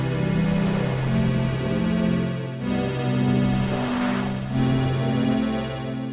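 A cinematic pad from the Serum 2 synth, a sustained harmonic drone with shifting low notes and slow modulation that sweeps through it, loud and continuous with no voices.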